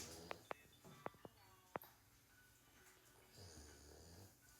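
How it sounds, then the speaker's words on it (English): A man snores softly in a quiet room, low rumbling breaths drawn out under a few sharp clicks and faint shuffling. "that's him snoring because it's not me"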